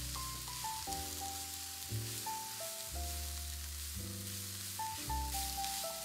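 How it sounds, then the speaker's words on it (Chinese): Carrot, onion and cabbage shreds stir-fry in a hot oiled wok with a steady sizzle, heard under prominent stepping background music throughout. "倒入胡萝卜丝跟洋葱丝翻炒， 然后再倒入包菜丝进行翻炒。"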